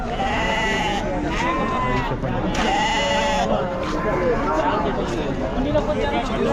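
Sheep and goats bleating repeatedly at a busy livestock market, several loud overlapping calls close by over a constant murmur of crowd chatter and talking voices.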